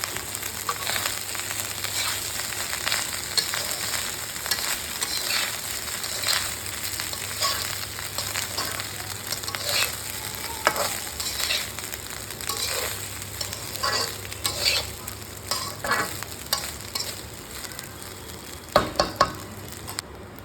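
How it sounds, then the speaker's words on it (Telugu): Cooked basmati rice is stirred through hot oil with curry leaves in a kadai, a continuous moderate sizzle broken by repeated scraping and tossing sounds of a ladle, ending in a few sharper knocks. "వేగిన తర్వాత ఉడికించి పెట్టుకున్న బాస్మతి రైస్ని కడాయిలో వేసుకొని బాగా కలుపుకోవాలి."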